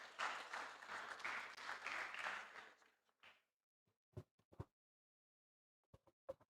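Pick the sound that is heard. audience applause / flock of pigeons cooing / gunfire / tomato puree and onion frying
audience applause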